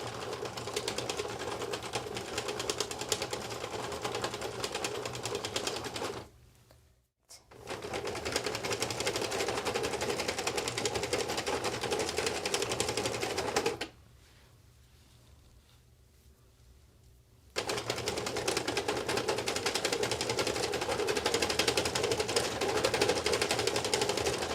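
A Sentro knitting machine cranked with plush yarn clatters in a fast, steady mechanical rattle, broken by two short pauses where the cranking stops, then resuming at the same brisk pace; no one speaks.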